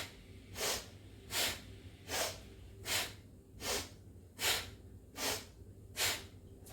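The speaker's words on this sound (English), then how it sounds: "So inhaling and exhaling through the nose." Quick rhythmic breathing in and out through the nose during a yoga practice, eight sharp, evenly spaced breathy bursts close to the microphone over a faint low background hum.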